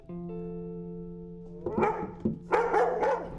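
A pet dog in the post-apocalyptic film Finch gives a few quick barks and yips over a steady tonal hum, close and moderately loud.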